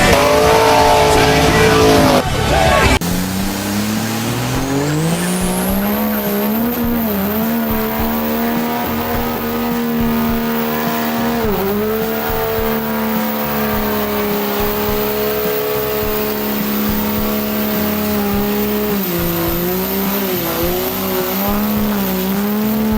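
A diesel truck revs hard as its tires spin, giving a loud, sustained engine roar with rising and falling pitch and a screeching tire squeal throughout, close up.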